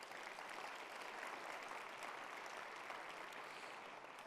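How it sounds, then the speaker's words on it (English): A conference audience gives a sustained round of applause for event sponsors, an even, dense wash of many hands clapping that stays faint and distant throughout, with no speech over it. "Please, a round of applause for our premier sponsors."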